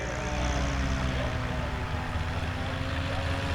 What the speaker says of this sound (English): Race 44 in the Just Aircraft Highlander with the Yamaha Epex engine.